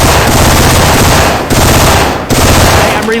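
Sustained rapid automatic gunfire from a Syphon Filter weapon in the video game Left 4 Dead 2, loud and continuous with brief breaks, dense rattling bursts filling the whole stretch.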